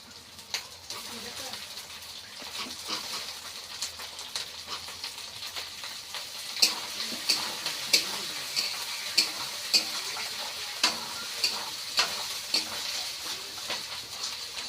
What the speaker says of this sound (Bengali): এবার টমেটোগুলো দিয়ে দিচ্ছি